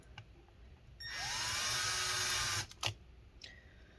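A power drill bores into a Lenovo Yoga 720-15IKB laptop, one steady high whine lasting over a second and a half, then stopping abruptly, followed by a brief burst and faint clicks.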